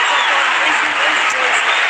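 A sell-out home crowd roars through an Easter Sunday NRL rugby league match between the Newcastle Knights and Canberra Raiders, a dense, loud and steady wash of cheering under a commentator's voice.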